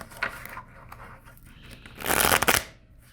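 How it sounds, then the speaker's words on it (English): A deck of playing cards being shuffled for a game of solitaire, with soft scattered riffles early on and then a loud, dense burst of riffling near the end, close up with no talking. "But first, let's shuffle."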